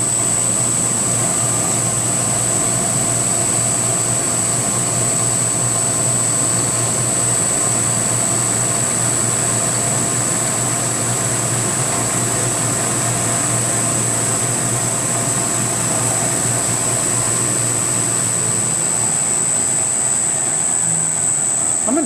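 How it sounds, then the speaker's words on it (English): A CNC mill, a PM-25, cuts a light finish pass at low spindle speed on a NEMA 23 standoff part, giving a steady, continuous machine hum with a high whine that holds level throughout, no voices. "this is basically how quiet the machine mills on a finish pass with a light cut like this, low RPM"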